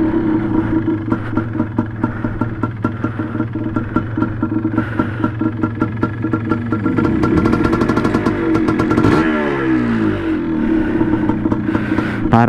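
Yamaha DT125 two-stroke motorcycle with a noisy clutch basket, idling with a steady rattling putter before revving up and pulling away on a test ride, loud and close.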